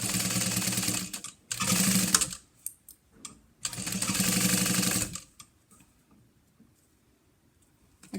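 Sewing machine stitching the seam of a cash card mini wallet at a 3 stitch length with a 1/4 inch seam allowance, running in two steady bursts of about a second and three seconds with a quiet gap between, then falling silent.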